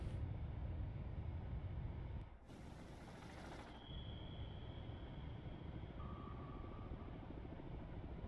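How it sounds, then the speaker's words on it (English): Helicopter rotor drone in the naval submarine game Cold Waters, a steady low rumbling hum with a brief interruption partway through, fairly quiet and continuous. "There's the helicopter right there too"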